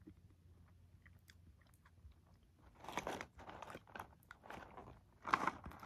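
Someone chewing Corn Pops cereal from a mini box, with quiet crunching building into several louder, close bursts of crunchy mastication and no talking.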